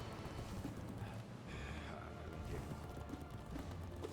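The boss Nosk in Hollow Knight gallops with rapid, rhythmic thudding footfalls like a running horse, a steady patter of hits continuing throughout at moderate, somewhat muffled loudness.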